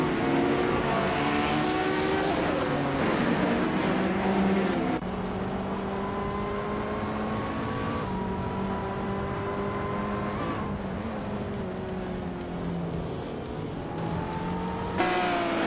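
Race cars lapping the tight corners of Lime Rock in a racing game, engines whining and shifting pitch continuously, rising and falling with gear changes and passes, steady and unbroken with no voices.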